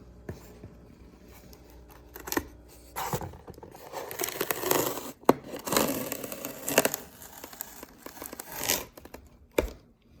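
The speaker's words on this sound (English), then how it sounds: "Let me peel this masking tape off here." Masking tape peeled off a repaired styrofoam piece, close crackly tearing and crinkling in irregular bursts with sharp snaps, rising and falling over several seconds without talk.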